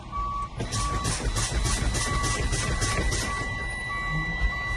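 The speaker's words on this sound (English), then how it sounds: "My low warning light and buzzer came on before 60 psi" A truck's steady high-pitched low air pressure warning buzzer drones below 60 psi alongside rhythmic beeping over a low truck engine rumble, close and fairly loud.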